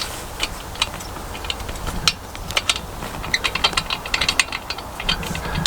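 Ratcheting clicks from tightening the bolt on an XOP Rubicon hang-on tree stand, a steady run of sharp metallic pawl clicks in irregular bursts, close and fairly loud, with no talking.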